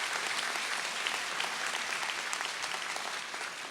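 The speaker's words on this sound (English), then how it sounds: "so let's give them a nice round of applause." A large crowd at a high school senior assembly applauds the graduating students with a steady, even wash of clapping that holds throughout without pause.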